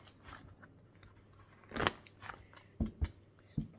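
Oracle cards being shuffled for a divination reading, giving soft papery riffles and crisp snapping bursts, with one louder flurry mid-way and two sharp card slaps near the end, close and fairly quiet.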